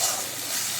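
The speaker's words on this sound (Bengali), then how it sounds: "বড় মাছ, এটাকে ভুনা ভুনা করে কষানো হচ্ছে।" A big fish sizzles in a pan with spices, sour yogurt and ground cumin, a brief burst of steady frying hiss with a faint stir.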